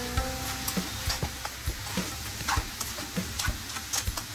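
Drumstick and amaranth stem pieces fry in a pan for a tamarind curry, a steady loud sizzle with rhythmic scraping ticks of stirring repeating about every half second.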